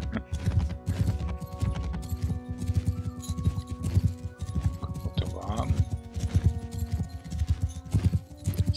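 Horse hooves clop in a fast, steady galloping rhythm while riding in Mount & Blade 2: Bannerlord, continuous and close over a low hum, with brief tonal game sounds.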